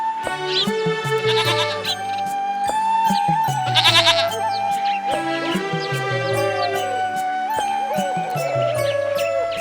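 A goat bleats repeatedly and loudly up close in a wavering, quavering cry, the calls spread across the span with brief gaps, alongside tonal music-like sounds and faint jingling.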